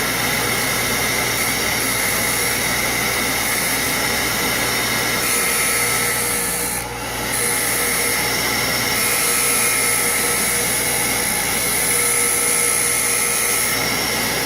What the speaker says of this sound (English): Got the line 11 fired up. A little bit of vacuum action.